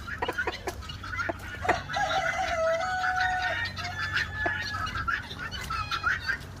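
Farm chickens cluck and squawk near and far around the coops while a rooster crows a long drawn-out call, layered with sharp bursts of calls throughout and no clear talking.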